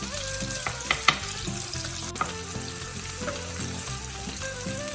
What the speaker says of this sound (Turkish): Soğanı ve sarımsağı biraz kavurduk.